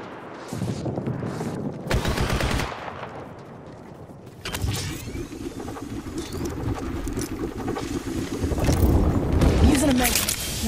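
Gunfire from an Apex Legends match, bursts of rapid shots mixed with game effects and movement noise, loud and close, with voices talking over the action.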